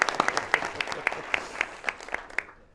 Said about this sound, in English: If we could get a round of applause for Brian